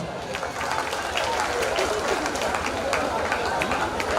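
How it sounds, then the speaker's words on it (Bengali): A crowd applauds at a school's 125th anniversary celebration: steady, dense clapping from many hands fills the whole stretch, with murmuring voices mixed underneath. "হিরো তালুকদারের জন্য একটা করতালি"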